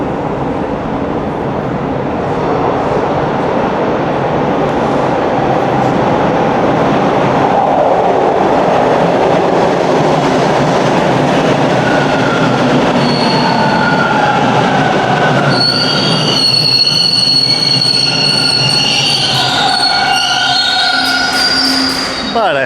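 A Toronto subway train rumbles loudly through a station, steady and close, with high metallic wheel squeals rising over the roar in the last few seconds.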